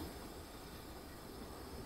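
A train in Transport Fever runs along the rails as a faint, steady rumble and hiss of wheels on track. The sound keeps the same level throughout, with no voices.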